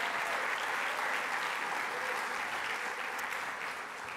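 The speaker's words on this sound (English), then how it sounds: "if I could have a round of applause for Tom Chen and his staff" Steady applause from diners at a university athletics Hall of Fame enshrinement dinner, a dense even patter of many hands that fades slightly toward the end.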